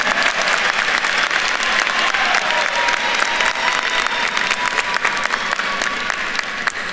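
Sustained, full applause from a large audience at a university social work commencement ceremony, steady and crowded with many overlapping claps, a faint murmur of voices beneath.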